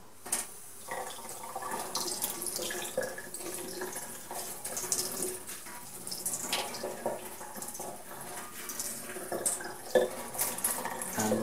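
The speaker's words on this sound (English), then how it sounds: "so if you just rinse it under warm water," Water runs from a tap while a Dyson V6 cordless vacuum filter is rinsed and handled in a sink, with occasional clinks and knocks.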